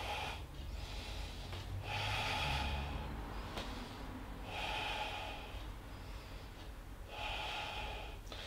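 Slow, deep breaths during a yoga front-split flow, each long inhale and exhale heard close and clear, repeating in a steady rhythm for several cycles.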